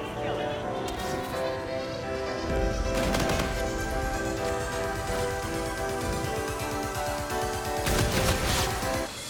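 Sustained automatic gunfire in Call of Duty: Infinite Warfare's beta Gun Game mode, a dense rapid chatter of shots layered over a constant loud game soundscape with music, the bursts swelling in places.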